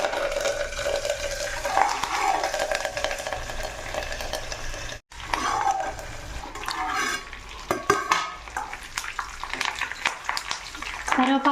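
Curry leaves dropped into hot oil in a home kitchen, crackling and sizzling loudly with stirring clatter, briefly cut off then resuming with sputtering pops.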